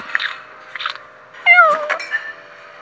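A cartoon cat in the Toca Kitchen cooking game gives a drawn-out meow after a few short munching bursts while being fed a hot dog, all clear and close with no talking.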